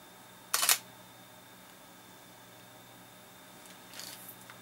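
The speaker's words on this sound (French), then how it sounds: "on va tenter de prendre en photo les cassettes qui sont là devant moi" A camera shutter fires once, crisp and close, while photographing a row of cassette tapes; a second, fainter shutter-like click follows a few seconds later over a quiet room hum.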